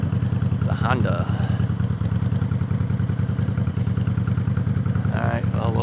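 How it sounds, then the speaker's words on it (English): A Honda motorcycle idles nearby with a steady, low, throbbing rumble that runs throughout, and brief bits of a voice cut in near the start and the end. "pull up next to the motorcycle here. Yeah, we're actually taller than the motorcycle here"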